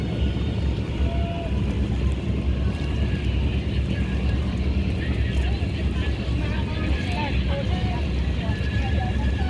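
Boats in a boat parade on Watts Bar Lake, a continuous loud rumble of engines and wind buffeting the microphone, with people talking over it.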